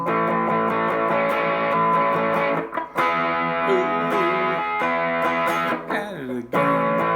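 Distorted electric guitar power chords ring out loud and sustained, with brief breaks between strummed chord changes, played for a lesson on a song.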